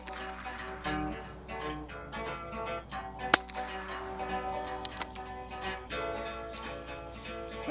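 A single sharp gunshot from a Stevens 22/410 combination shotgun-rifle fired at a target outdoors, one loud report in the middle of a stretch of quieter background noise.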